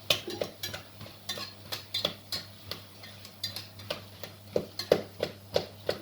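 A plastic-coated whisk stirs thick choux pastry dough in a pot, making steady rhythmic scraping taps and soft clicks against the metal, close and moderately loud with no talking.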